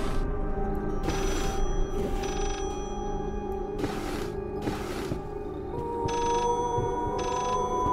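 A telephone rings in the horror game Layers of Fear, sounding as repeated bursts of bright electronic ring spaced about a second apart over a low ambient hum, with no one talking.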